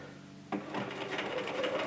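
A home sewing machine stitches across a dark denim tote, starting abruptly after a quiet pause and then running steadily at a soft, even level.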